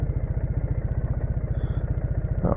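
A Triumph Bonneville motorcycle engine idles close by with a steady, rapid low thumping pulse that holds an even rhythm throughout.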